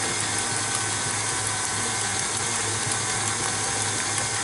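Electric mixer beating espresso rum cake batter, a continuous close buzzing whir with slight rattling, steady and unbroken with no voices.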